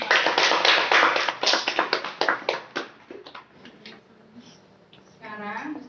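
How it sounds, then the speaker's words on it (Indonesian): A primary-school class claps hands together in a fourth-grade classroom: a burst of loud, fairly rhythmic claps that thins out and fades, followed by quieter room sound and a voice. "Beri tepuk tangan buat kalian semua."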